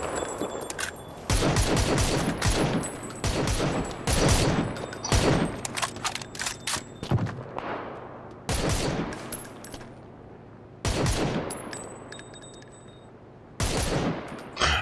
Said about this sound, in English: Exchange fire.